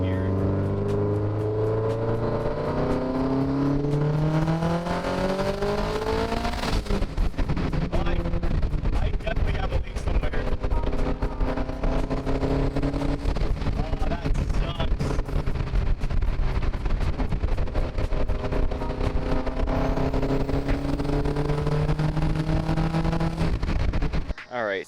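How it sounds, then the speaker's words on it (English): A Subaru GC8 that is losing boost revs hard through second gear with flat-foot shifting, its engine note climbing, breaking off briefly at the shift and climbing again, loud and close, with a voice heard over it. "this will be testing out flat foot shifting from second gear"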